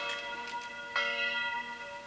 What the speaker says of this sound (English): The bell was rung to summon the militia.